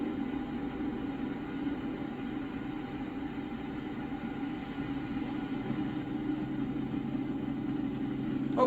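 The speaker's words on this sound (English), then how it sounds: "I hear a train." A train rumbling past in American Truck Simulator, a steady low mechanical roar with a faint rail hiss, moderately distant and continuous with no talk.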